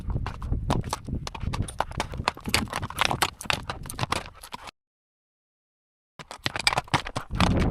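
A ridden horse's hooves clip-clop in a steady, close rhythm, stopping for a silent pause and then resuming.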